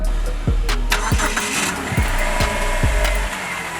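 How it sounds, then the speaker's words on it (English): The engine of a BMW E30 with a light clutch cranks and catches in a series of repeated low thumps and sputters, close by. It sounds rough and uneven, as though it is stalling. "He stalled it twice."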